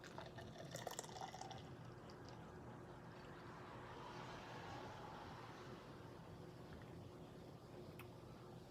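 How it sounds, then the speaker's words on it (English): Wachusett Pumpkin Ale poured into a glass, a quiet continuous liquid trickle and fizz with a few faint clinks near the start, heard close and alone without talking. "Going in for the pour."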